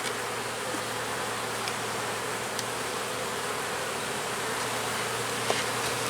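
Dense, steady buzzing of many honey bees inside an open hive box, close and continuous with no gaps or voices.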